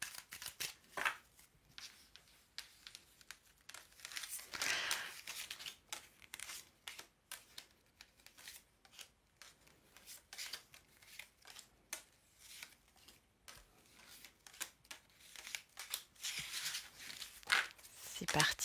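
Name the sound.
tarot cards being shuffled and laid out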